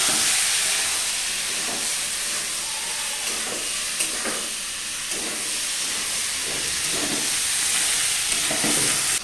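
Ivy gourd and potatoes fry with browned onions in a hot pan, a loud steady hiss and sizzle with repeated scraping stirs of a spoon throughout.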